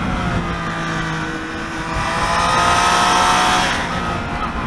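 A Triumph Street Triple 765 motorcycle engine pulls hard with a loud, sustained drone whose pitch climbs gradually and swells to a peak before easing slightly, heard on its own without talk.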